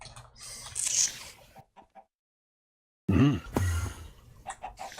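Minecraft chickens cluck in short, close bursts, with a brief silent gap between two clusters of clucking in a modded sky-factory mob farm.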